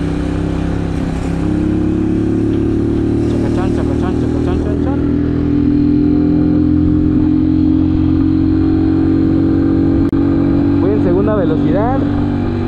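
An Italika DT 125 motorcycle engine drones steadily at high revs on a delivery ride through a residential area, a constant buzzing hum with faint clattering and occasional rising whines from passing traffic.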